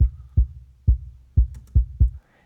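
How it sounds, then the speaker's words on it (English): Kick drum in a pop punk kit captured by the outside mic with all top end filtered away, so each hit is a deep, dull sub thump; six hits in an uneven pattern, close and alone. "on its own, the kick out mic sounds like this."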